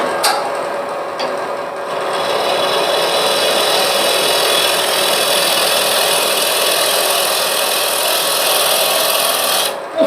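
A wood lathe spinning a hollow vessel blank at raised speed, the turning tool cutting with a loud, continuous rasping hiss that holds steady for the whole stretch, with no talking.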